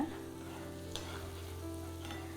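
Onions and tomatoes sautéing over a high flame for chicken sukka, a steady close frying sizzle with soft stirring scrapes, no voices.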